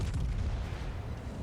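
Main guns of the Jean Bart battleship fire in a video game naval battle, a deep rumbling boom that rolls on for a moment and fades, heard alone without talk.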